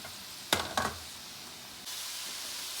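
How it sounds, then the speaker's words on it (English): Steady sizzling of methai (kurma) dough frying in hot oil, with a couple of brief louder crackles and splashes early on. "So while I'm frying it,"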